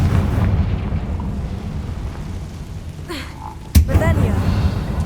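A Confringo blasting curse in Hogwarts Legacy goes off as a single sharp blast over a low background rumble, followed by a crackling, ringing tail, with a voice talking nearby.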